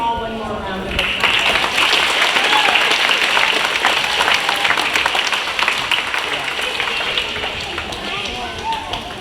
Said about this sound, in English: So let's give them all one more round of applause.